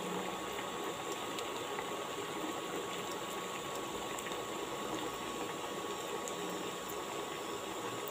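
Paruppu vadai made from lentil batter fry in hot oil, a dense steady sizzle and bubbling that holds close and even throughout, with no voices.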